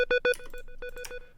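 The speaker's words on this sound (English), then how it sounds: "I shorten it to 2 so it has more of a plucky sound" Shortened, plucky square-wave synth pattern for a pluggnb beat, with quick staccato notes in a brisk repeating run, a couple of louder hits at the start, clean and close with no talking.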